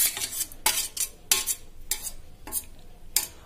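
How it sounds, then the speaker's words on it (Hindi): A spoon stirs chopped ginger, tomato, capsicum, onion, carrot, coriander and chili together in a bowl for egg balls, making about six sharp, evenly spaced scraping strokes close by. "अब दोस्तों, इसको अच्छे से मिक्स कर देंगे।"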